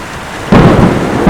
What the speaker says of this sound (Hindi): बादल गरज रहे थे और भयंकर बिजली भी चमक रही थी